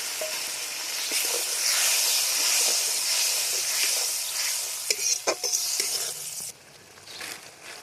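Water poured into fried spices and potato in a pan for a fish curry bursts into a loud hissing sizzle that gradually fades, with spatula scrapes and clinks toward the end.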